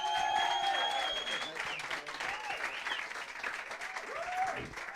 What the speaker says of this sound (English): Will you make some noise for Mr. Tommy Fury?